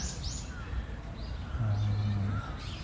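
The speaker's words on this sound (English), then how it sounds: "You can hear them. They're all tweeting." Birds in Yoyogi Park, Tokyo, give quick chirps alongside a low pigeon-like coo that runs for about a second, heard outdoors at moderate distance over faint background murmur.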